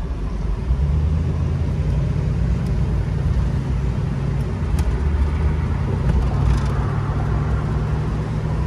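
A 1985 Buick Riviera convertible pulls away from a traffic light, its engine giving a steady, loud rumble with road noise that holds evenly throughout.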